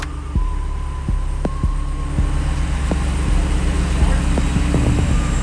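A 2021 Jeep Wrangler Rubicon 392's V8 Hemi engine idles with a deep, steady rumble and low throbbing pulses, some faint clicks and background noise, heard close up without talk.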